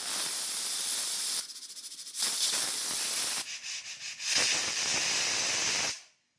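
A pressure cooker with millet khichdi inside releases steam over a gas flame in loud bursts of sharp hiss, broken by brief pulsing gaps, before cutting off near the end.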